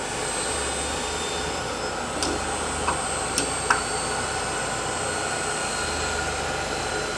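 A Swiss-made Voumard universal internal grinding machine running, a steady mechanical hum and whir with a low drone, punctuated by a few faint clicks and ticks.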